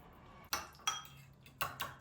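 A utensil stirs a sauce of olive oil, two crushed garlic cloves and pepper flakes in a dish, made for an oven-baked fish. A few sharp metallic clinks land at irregular intervals against a quiet room.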